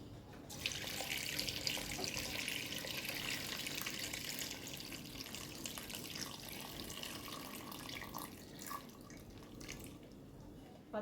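Tap water runs steadily into a pot of 400 grams of soaked chickpeas salted for pressure cooking hummus, a continuous close splashing pour lasting throughout with no talk.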